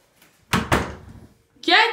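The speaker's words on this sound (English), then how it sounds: "Close the door." A door shuts during a noisy children's stuffed animal bath game at home, two close, fairly loud thuds in quick succession followed by a voice speaking.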